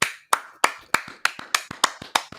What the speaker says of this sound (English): Everybody out there better be clapping for Kathy